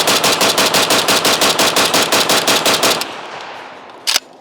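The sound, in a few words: Pioneer Arms Hellpup AK firing its last magazine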